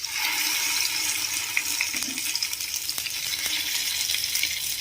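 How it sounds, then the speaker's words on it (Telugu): Mint chutney going into a hot tempering in a pan, a loud, dense hiss of sizzling oil and moisture that holds steady with a few sharper spatters, no speech. "ఇలా పోపు అనేది మంచిగా ఫ్రై అయిపోయిన తర్వాత మనం ఇందులోకి రెడీ చేసి పెట్టుకున్న పచ్చడిని వేసుకోవాలి."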